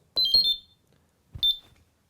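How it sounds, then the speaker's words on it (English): A Mobeye i110 GSM PIR alarm sounds its exit-delay countdown: two short, high electronic beeps, close and clear, separated by a second of silence. "now you'll hear the countdown beep, which is your exit delay"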